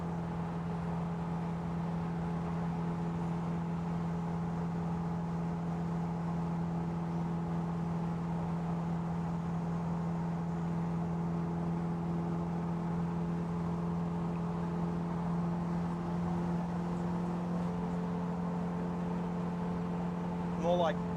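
A Ford Falcon engine holding a steady cruise around 2500 RPM at about 90 km/h, a constant low drone with road hum inside the cabin, and a voice speaking briefly over it.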